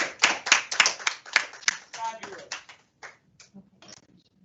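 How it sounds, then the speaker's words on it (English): An audience claps after a group of student presentations in a classroom. The round of applause starts dense and close, then thins into a few scattered claps, with some voices mixed in. "let's give a round of applause"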